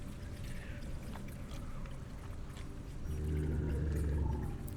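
Horrible, guttural noises from a Maw creature in the video game Torment: Tides of Numenera, a low rumbling roar that swells louder in the last two seconds over a murky background.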